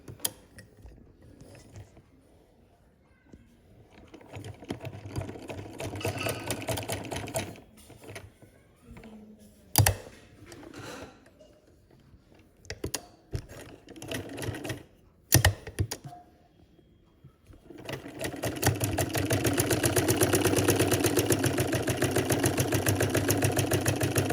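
A sewing machine stitches a hand-made sock heel in short, rapid rattling bursts separated by pauses. It then settles into a long, loud continuous run up close.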